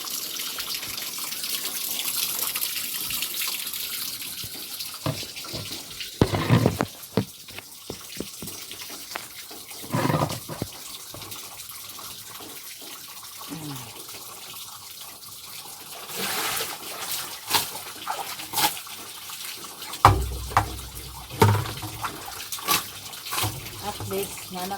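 Running tap water used for rinsing, splashing and trickling at close range with clatter of handling, while a person talks over it at times.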